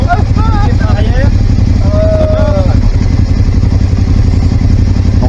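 A motorcycle's engine runs steadily during a full pre-ride check of tyres, brakes, lights and horn, with constant low rumbling while a person talks over it throughout.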